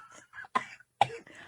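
Two harsh, close coughs break out in quick succession, each followed by a breathy throaty tail, with brief murmured voice sounds in between.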